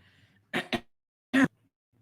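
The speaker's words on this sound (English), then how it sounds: "Sorry, this cough." Three sharp, harsh bursts: two quick coughs close together, then a third after a pause, loud and close in an otherwise quiet room.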